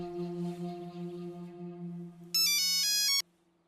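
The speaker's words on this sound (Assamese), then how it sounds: "ফোন এটা আহি আছে হ'বলা" A phone rings with a steady tonal ringtone, then a brighter, louder burst of rapidly stepping electronic notes breaks in before cutting off abruptly, leaving near silence.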